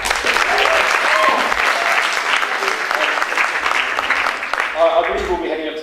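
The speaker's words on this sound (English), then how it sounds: "Can I pass around the applause for the chair as well?" An audience at a student union Question Time evening claps for the chair, a sustained round of applause that holds steady and begins to thin toward the end, with a voice briefly audible near the close.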